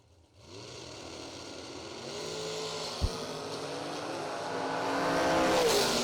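A dragster accelerates hard down a drag strip at a million dollar race, its engine note climbing steadily from near silence to a loud, sustained roar, with a sharp brief crack partway through.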